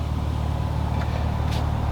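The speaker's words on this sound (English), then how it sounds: "the engine is on right now" A BMW M2 engine idles steadily, a continuous low rumble close by with no talk over it.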